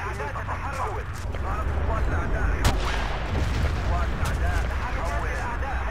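A tank cannon fires during a Battlefield 2 Armored Fury multiplayer battle. One sharp blast stands out from steady gunfire and rumbling battlefield noise, and voices can be heard.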